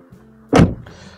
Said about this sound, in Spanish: al cerrar la puerta